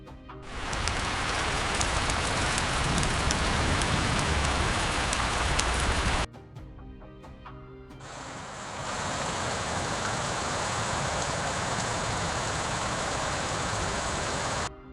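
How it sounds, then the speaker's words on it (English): AI-generated rain effect of drops falling slowly, a dense, steady hiss of rainfall on a surface that cuts off briefly partway through and then resumes at a similar level, with no voices. "I want to generate a sound effects of a rain dropping slowly"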